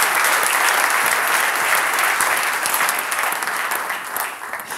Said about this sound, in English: Let's have a round of applause for Phase 7